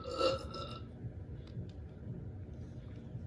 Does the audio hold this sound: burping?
yes